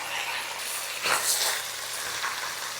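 Chopped onions hit a pot of Italian ragù alla Napoletana sauce with a soft, steady sizzle and hiss, swelling briefly as they go in, then settling into a quiet fry.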